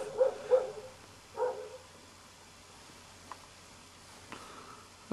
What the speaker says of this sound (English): I seem to misplace my dog, but I can hear him barking somewhere.